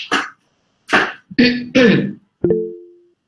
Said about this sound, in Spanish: la tos hoy día es la misma